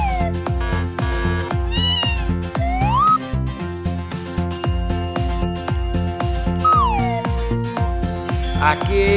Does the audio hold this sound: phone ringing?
no